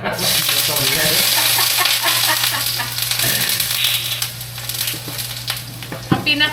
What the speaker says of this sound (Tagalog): So, igisa na natin ang bawang sibuyas luya.